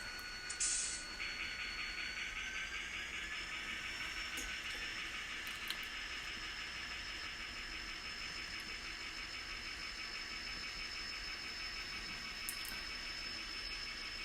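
An Atlas N scale model locomotive runs slowly, giving a faint, steady electric motor whine with a soft hiss throughout and a few light clicks.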